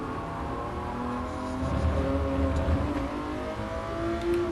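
A 1994 McLaren F1 engine in GT Sport revs hard and steadily, its pitch climbing and dipping through gear shifts, loud and close throughout with no talk over it.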